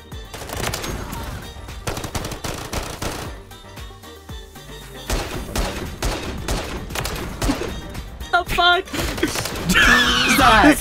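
Rapid hip-fired bursts from an RPK light machine gun in Modern Warfare 3 crack out in clusters, with short pauses between volleys and dense, loud rattling toward the end.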